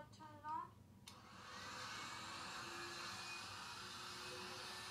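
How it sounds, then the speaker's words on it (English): A Bissell Quick Steamer carpet cleaner switched on, a brief rising whine giving way to a steady, loud motor whoosh and hiss that drones on without a break. "that's how a Bissell quick steamer sounds"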